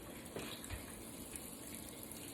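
Spring water runs from a tap into a jar, giving a steady, soft gushing rush that stays even and uninterrupted throughout.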